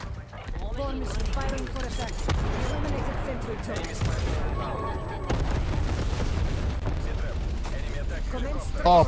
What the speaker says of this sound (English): perfect timing on the strafe run.